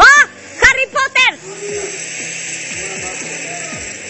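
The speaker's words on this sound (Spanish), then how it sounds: "Vamos a sofreír esta salsa y vamos a dejar que hierva" Salsa verde for chicharrón frying in a hot pan gives a steady broadband sizzle and hiss that starts after a few short exclamations and runs on evenly with faint bubbling.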